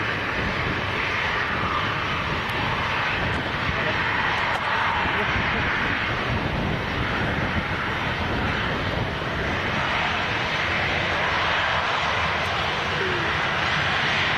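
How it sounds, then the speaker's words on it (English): A Ryanair Boeing 737-800 jet at Leeds Bradford Airport gives a steady, loud broadband roar of engine noise that holds throughout without letup. "737-800. Yeah, Ryanair to Bratislava,"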